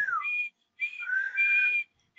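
A shrill personal safety whistle sounds in three close, loud blasts with short gaps between them, the middle one stretched longest.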